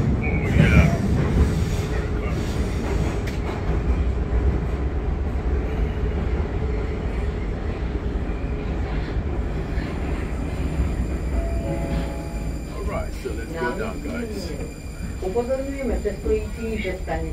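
Prague metro train running, a continuous loud rumble and rattle of the carriage with screeching tones near the end, and people talking over it.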